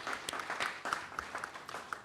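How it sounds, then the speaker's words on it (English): Audience applause at a GST conference, fairly faint and brief, with scattered claps swelling and fading over about two seconds. "Request all of you to carry it with the loud round of applause."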